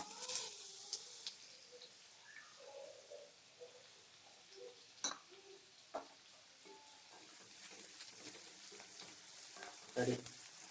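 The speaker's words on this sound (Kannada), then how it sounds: "ಎಣ್ಣೆ ಬಿಸಿ ಆಗ್ತಿದ್ದಂಗೆ ನಾವು ಕಟ್ ಮಾಡಿ ಇಟ್ಕೊಂಡಿರೋಂಥ ಆನಿಯನ್ ಹಾಕ್ಕೊಳ್ಳೋಣ" Chopped onions going into hot oil sizzle and crackle steadily, with stirring scrapes and a few sharp clicks and knocks scattered throughout.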